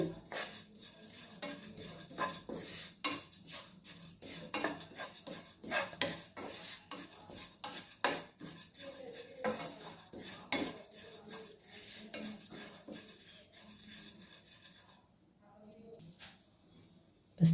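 A cup of oats lightly dry-roasted in a pan for healthy laddus, with a spoon scraping and stirring in rapid, continuous strokes, clinking against the pan and faint sizzle, dying away to near quiet at the end.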